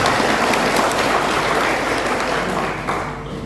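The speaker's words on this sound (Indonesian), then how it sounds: "Tepuk tangan dulu tentunya." Applause at an oath-taking and inauguration ceremony for election committee members, a loud, dense wash of many people clapping that holds steady and tapers slightly near the end.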